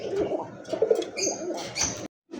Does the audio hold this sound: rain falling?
no